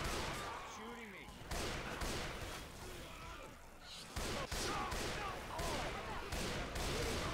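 Rapid gunfire crackles in the zombie shooter Left 4 Dead 2 Versus, dense repeated shots in bursts with short gaps, fairly loud, with some voice chatter mixed in.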